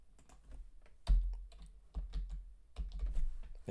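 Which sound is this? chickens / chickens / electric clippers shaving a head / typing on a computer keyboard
typing on a computer keyboard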